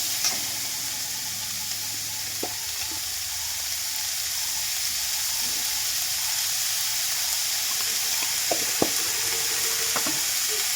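Drumstick (moringa) leaves sautéing with salt in a pan for a Tamil-style poriyal: a steady, even hiss of frying with a few faint clicks and ticks, close and unbroken.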